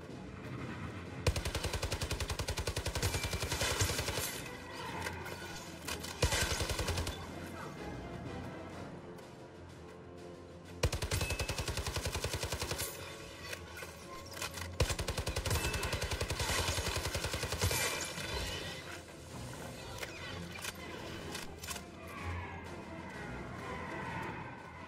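A big gun in the video game Starship Troopers: Continuum fires in long rapid bursts, loud and dense, with short pauses between volleys.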